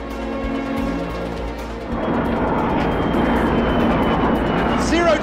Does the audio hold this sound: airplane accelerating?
yes